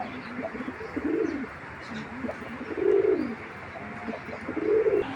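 A pigeon gives three drawn-out, low rolling coos at a steady pace, each swelling and fading, heard close against a constant background hum.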